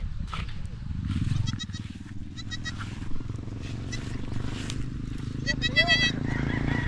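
Several short high-pitched bleats from a newborn goat kid, repeated in bursts over steady low rumbling background noise.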